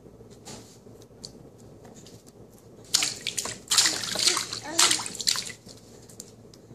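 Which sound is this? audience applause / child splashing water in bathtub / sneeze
child splashing water in bathtub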